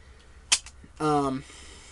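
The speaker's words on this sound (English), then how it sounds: "if you pull back on it, it would make the firing noise for the cannons" A sharp click followed by a brief electronic buzzing blast, the cannon firing effect of a Transformers Armada Starscream toy, close and fairly loud over faint background hiss.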